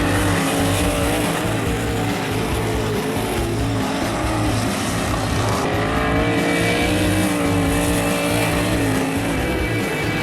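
Sprint race cars running three wide on a dirt track, engines roaring loud and continuous with a sustained high whine and some tire noise, no voices over it.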